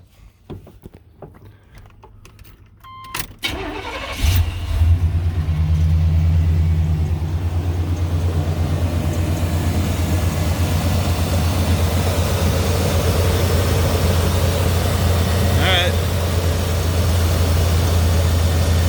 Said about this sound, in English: So let's get the battery hooked up, make sure we're good to go.